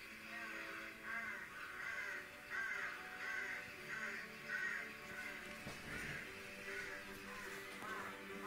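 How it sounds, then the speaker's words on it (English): A large flock of rooks caws noisily while streaming toward roost trees in rural parish countryside near sunset, with overlapping harsh calls in an uneven rhythm at a moderate distance. "thousands of rooks from across the parish are streaming towards the trees that form the roost, cawing noisily as they go"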